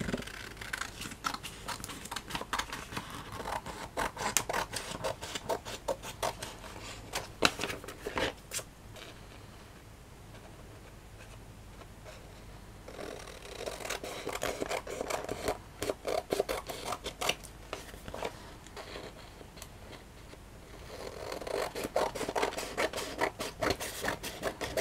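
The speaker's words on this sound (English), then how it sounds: "And then you just simply cut off the excess." Scissors snipping away excess book paper in rapid, close, crisp cuts, with dense runs of snips at the start and end and a quieter stretch of softer paper handling in the middle.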